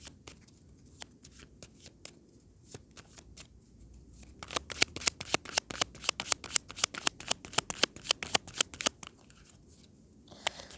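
Tarot cards are shuffled during a reading, first in scattered slips, then in a fast run of crisp, riffling snaps close up, with no talking.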